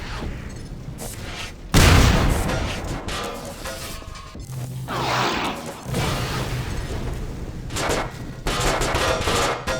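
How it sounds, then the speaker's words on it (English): A mechanical gun emplacement in Half-Life 2: Lost Coast fires shells toward a village, loud booming blasts and bursts of gunfire with clanking machinery between shots, heard alone without voices. "stopping this machine from shelling the nearby village"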